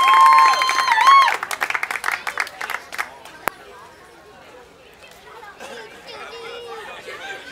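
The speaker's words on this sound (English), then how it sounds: "one more round of applause for Jack" Audience at a St. Baldrick's head-shave fundraiser in a pub applauds Jack after his head is shaved, a loud burst of clapping and cheering with chatter that thins out into softer crowd murmur and talk.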